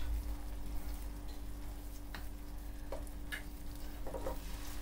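Eggs frying in a pan on top of a potato pizza give a steady, close sizzle with scattered stirring and scraping clicks, no voices.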